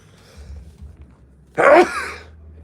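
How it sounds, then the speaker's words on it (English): One loud, sharp sneeze bursts out in a dusty workshop over a low background rumble, close to the listener, followed by a brief fading breath. "Now I am going to sneeze. It's dusty in here."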